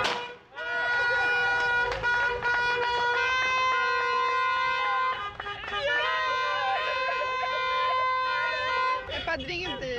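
Car horns honk and toot in long sustained blasts and overlapping bursts at a celebration welcoming back a truck driver, loud and close, with brief breaks between volleys.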